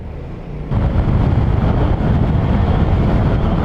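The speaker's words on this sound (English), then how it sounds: "My scooter sounds very inoffensive." Steady broadband engine and wind rumble from a 2020 Vespa GTS 300 Super scooter ridden at slow speed, rising in loudness after a quieter start and then holding constant, with no talk.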